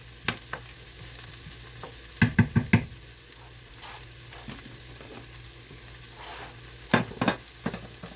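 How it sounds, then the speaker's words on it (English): Jalapeños and onions sauté in a cast iron skillet over medium-high heat, a steady soft sizzle broken by bursts of scraping stirring, heard close with no talk. "Saute those for just a minute or so before I put the sweet potato slips in."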